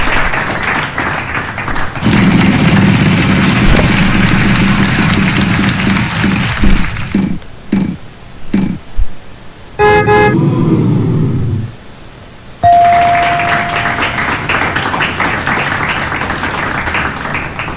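A car engine revs and a horn-like tone sounds in a Wheel of Fortune PC video game, with a steady loud stretch, a gap with sharp clicks and a rising blip, then a long held tone and a bright effect continuing.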